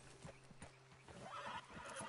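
A horse in Red Dead Redemption 2 neighs and whinnies close by, with hooves clip-clopping in a steady rhythm throughout. The sounds are clear and isolated, with no voices over them.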